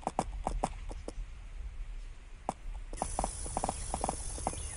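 Horse hooves clip-clopping in the Lissy horse rally video game, a series of crisp, fairly close hoof clops in an uneven walking rhythm with short pauses.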